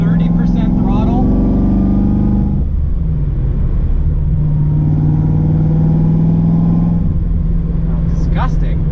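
An LSA-swapped Infiniti G35 cruises in fifth gear at light throttle, with a steady low engine drone and road rumble, loud and continuous, and the engine note dipping briefly before it settles again.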